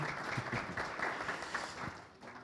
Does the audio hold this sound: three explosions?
no